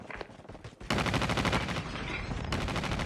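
A sentry gun firing in the mobile shooter game Call of Duty Mobile, a loud sustained burst of rapid automatic gunfire after a few scattered shots, continuous and dense.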